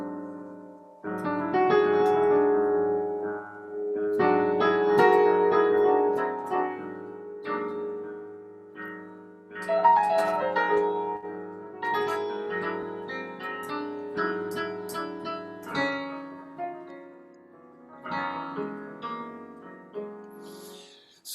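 Solo piano plays slow, lush Debussy-style impressionist chords with rich, colorful harmonies, phrases swelling and fading with pauses between, close and fairly loud.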